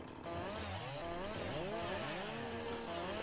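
A chainsaw in Farming Simulator 19 revs and whines continuously at close range, its pitch sweeping up and down as it cuts through wood.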